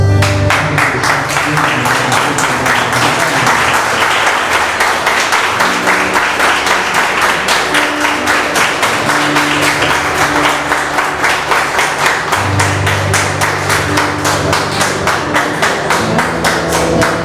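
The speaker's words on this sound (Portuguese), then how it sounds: "vamos aplaudir o Senhor Jesus Cristo pela vida dele" Congregation applauding during an evening church service in Brazil, a steady dense clapping that fills the whole stretch, with a sustained organ or keyboard tone underneath.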